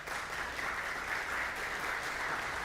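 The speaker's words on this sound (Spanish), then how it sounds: "Les damos la bienvenida con un fuerte aplauso." Steady, dense applause from a conference audience welcoming a panel of speakers, a continuous even wash of many hands clapping at moderate distance with no voices over it.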